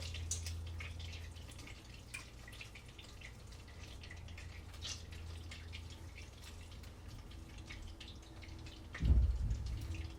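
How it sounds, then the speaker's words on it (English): Butter browning in a pan, a steady faint crackle of small bubbles and pops close by, with a louder clunk near the end. "I've moved from frothing to bubbling, and then it'll foam."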